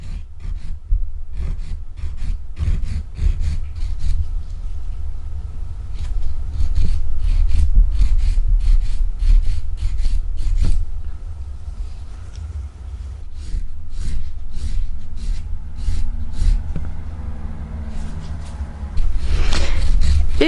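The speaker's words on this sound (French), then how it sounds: "je viens limer mon extension" A gel nail extension on a capsule is filed down and shaped, giving a steady close-up rasping and rubbing in repeated strokes that run the whole time with no talk.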